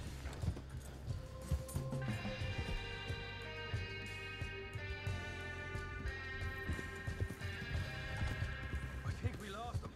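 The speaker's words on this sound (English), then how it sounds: "The horse is going to start struggling in a second." Horse hooves clip-clopping at a gallop with neighs and whinnies in the open-world game Red Dead Redemption 2, steady throughout under game music and a person talking.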